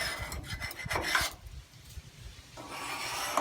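An angle scraper scrapes old gasket material off the door of a Central Boiler E Classic 1450 outdoor wood furnace, with close, rough rasping strokes in quick bursts before a brief lull and another softer scrape.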